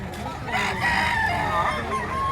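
A rooster crows at a chicken market in Padre Garcia, Batangas, its drawn-out call ringing clearly against a background murmur of clucking fowl and low voices.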